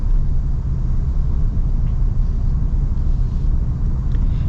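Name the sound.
2026 Toyota Tundra TRD Pro engine accelerating on road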